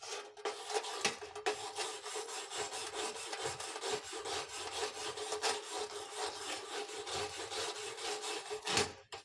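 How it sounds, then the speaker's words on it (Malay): Welded butt joint being cleaned after slag removal, a continuous close-up scrubbing rasp of metal against metal with short rhythmic strokes. "Setelah selak ataupun kerak telah tanggal, pelajar perlu membersihkan kawasan sambungan."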